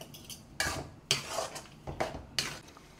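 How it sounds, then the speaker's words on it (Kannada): Masala paste, potato and brinjal being stirred and fried in oil for a vegetable sambar, heard as a few sharp scraping clatters of a spoon against the pan over a quiet background, up close with no talk. "ಈಗ ಅಷ್ಟೂ ಎಣ್ಣೆಯಲ್ಲಿ ಚೆನ್ನಾಗಿ ಫ್ರೈ ಮಾಡೋಣ"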